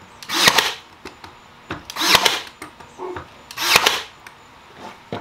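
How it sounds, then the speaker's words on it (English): A power drill drives screws to fix furniture feet into scrap wooden blocks under a metal file cabinet, in three close, loud whirring bursts separated by brief pauses. "then I'll screw the feet into that"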